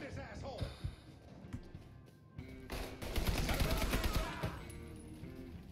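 Gunfire in the Mafia III video game, shots fired through boxes, with bursts of rapid shots building to a loud sustained volley, mixed with game sounds and someone talking.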